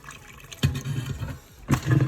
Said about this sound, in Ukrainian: заливаю у кормушку